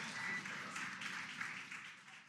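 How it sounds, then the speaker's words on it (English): A crowd applauds the splashdown of the capsule carrying NASA astronauts Butch Wilmore and Suni Williams, heard as steady, massed clapping that stays fairly distant and soft, a dense wash that holds evenly throughout. "You can hear the crowd here"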